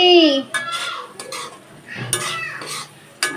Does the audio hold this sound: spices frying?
yes